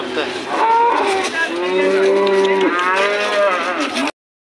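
Cattle at the Shahrikhon livestock market in Andijan give loud, drawn-out moos, one long low call dominating close by, amid crowd murmur and market noise.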